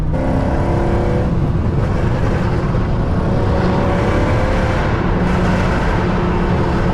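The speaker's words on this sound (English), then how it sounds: "the burbles gotta go" Car exhaust burbling and crackling while driving, a steady close-up engine drone inside the cabin with a sluggish automatic transmission, loud and continuous throughout with rough low-end texture.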